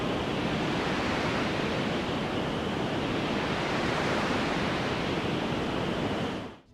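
Steady broadband noise runs through an EQ as the Q width is widened, a constant hiss like surf or wind whose tone shifts subtly, alone and even in level until it cuts off at the end.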